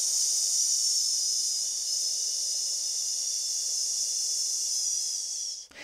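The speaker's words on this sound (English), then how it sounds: "allow the breath to leave your body through a hiss sound like this" A long, steady breath let out through a hiss during a vocal belting workout, loud and close, continuing unbroken for several seconds before cutting off abruptly.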